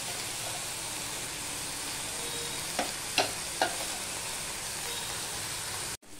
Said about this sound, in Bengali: এইভাবে আমি চিংড়ি মাছগুলো অল্প তেলে ভেজে নিচ্ছি